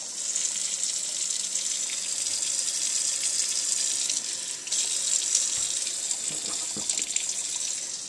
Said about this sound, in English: So what we're going to do now is we're going to rinse off these fillets.